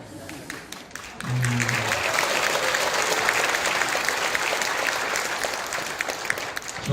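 A church congregation at an Easter joint worship service breaks into applause during an encouragement speech, the clapping swelling after a brief pause and holding steady and full for several seconds.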